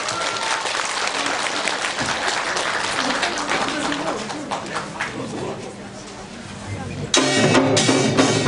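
Audience applause at a Korean speaking and singing contest, welcoming a performance group to the stage: dense, steady clapping from a crowd that carries on throughout, growing louder near the end.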